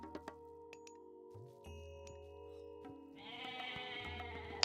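Goats bleating in the real-time strategy game Age of Mythology, a couple of short bleats over steady game music and tinkling interface chimes, with denser in-game sounds building toward the end.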